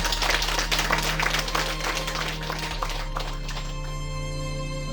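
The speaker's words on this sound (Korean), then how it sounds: "여러분 다시 한번 뜨겁고 힘찬 박수로 응원해 주시기 부탁드리겠습니다." A crowd claps loudly and steadily at a candidate's election office opening ceremony in Gangneung, the applause fading out after a few seconds into a sustained background tone.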